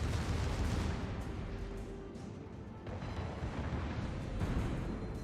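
Naval 152 mm guns fire in World of Warships with booming, rumbling blasts and heavy crashes, several shots rolling together into dense battle noise at fairly close range.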